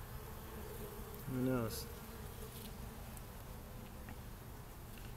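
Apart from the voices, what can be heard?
bees buzzing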